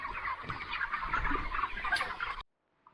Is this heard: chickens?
yes